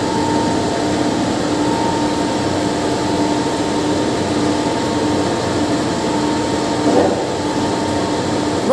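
An industrial carpet washing machine runs continuously with a loud, even mechanical hum and droning whir, steady throughout with one brief clatter near the end and no speech.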